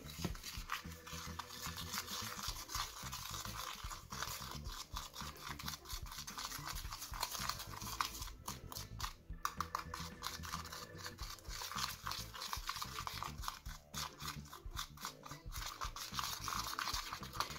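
Slime mixture with sugar and red mica powder being stirred in a bowl, a soft, continuous scraping and rubbing texture with irregular rhythm, quiet and close, with no talking.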